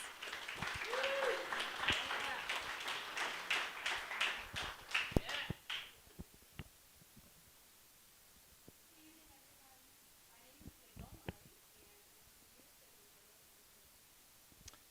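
Audience applause for two student presenters at a campus event, a dense burst of clapping for about six seconds that then fades to a few scattered claps and quiet room noise.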